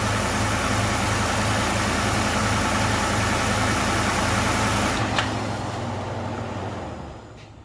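A 2019 Ford F-150 with the 5.0 Coyote V8 idles steadily after an oil change, a loud, even low hum that cuts off partway through and winds down as the engine is shut off.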